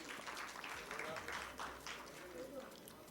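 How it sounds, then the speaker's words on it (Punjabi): An audience claps at an international Punjabi conference in Lahore during a prize announcement, a steady wash of applause heard at a fair distance, with voices talking over it. "ਤਾਲੀਆਂ ਵਜਾ ਦਿਓ।"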